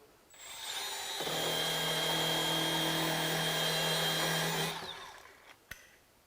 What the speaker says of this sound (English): now we're going to go in and score up our area with our buffing wheel